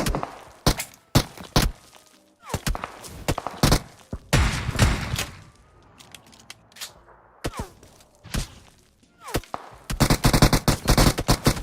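Gunfire in PUBG Mobile, sharp irregular shots and short bursts scattered throughout, with a rapid dense volley near the end, loud and close.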